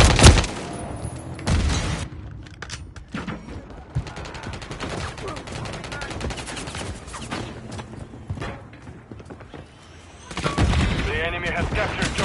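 Video game battle gunfire from a capture-the-objective match: bursts of rifle and machine-gun fire with booming shots, dense and loud through much of the stretch, with shouted commands and game announcer voices mixed in.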